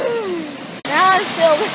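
Steady rushing roar of a waterfall fills the background while people talk loudly over it, with a brief dropout midway.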